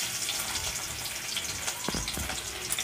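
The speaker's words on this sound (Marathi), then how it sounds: "इथे तेल गरम झालं आहे. त्यामध्ये एक कांदा बारीक कापलेला घालून घेऊया." Finely chopped onion frying in hot oil for a Marathi-style clams curry, a steady hiss of crackling oil with a few louder spatters near the end, close by and with no talk.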